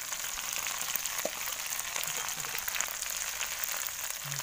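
Grasshoppers frying in boiling oil give a steady, close crackling sizzle with dense fine pops, unbroken and without voices.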